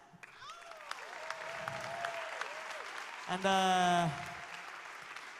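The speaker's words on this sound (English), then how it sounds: "big round of applause for you guys." An audience at a live show applauds under a voice and whistles, with a brief loud tonal buzz or horn blast cutting through partway before the clapping continues.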